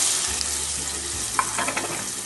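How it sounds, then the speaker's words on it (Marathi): Cumin, asafoetida and onion hit hot oil, making a steady close sizzle and crackle with small spits and stirring clatter, no voices heard. "तेल तापायला ठेवलंय मी, आता त्यात टाकते मी जिरं, मग टाकते हिंग, आता टाकते कांदा"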